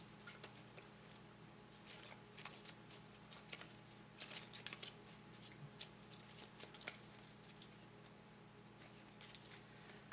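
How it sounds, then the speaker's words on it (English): Light shuffle of a small stack of Pandemic board game infection cards, soft riffling and flicking of card edges, faint and close with a steady low hum behind. "Shuffle the cards in the infection discard pile and put them on top of the infection deck."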